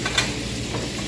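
Onions sautéing in butter give a steady, close sizzle with a brief brighter crackle near the start, continuing evenly for the whole short stretch.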